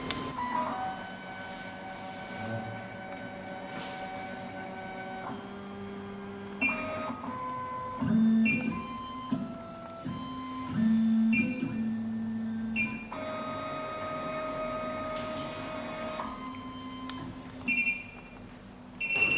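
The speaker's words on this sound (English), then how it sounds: "Press Start button to calibrate the distance between decoder and cutter." SEC E9 Android key cutting machine with a tubular key clamp running its decoder-to-cutter calibration, with whirring motor moves, stops and repeated electronic beeps in an uneven mechanical sequence, fairly quiet and with no speech.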